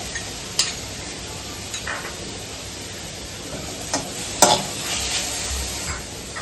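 Onion and ginger garlic paste frying in a pan, a continuous sizzle with a few sharp clinks and scrapes of a spoon stirring against the pan, close and alone.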